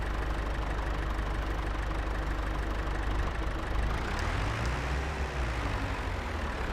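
A John Deere-Lanz 710 tractor engine idles in Farming Simulator 22, a dense, steady rumble that holds loud and even throughout, with a slight shift in tone toward the end.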